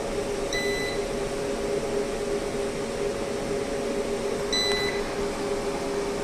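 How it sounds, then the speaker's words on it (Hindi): A modular UPS running on battery power gives short, faint electronic beeps a few seconds apart over a steady hum of fans and electrical noise. "हर एक कुछ सेकंड के बाद यूपीएस हमारा बीप साउंड देगा, हर एक 3 सेकंड्स के बाद।"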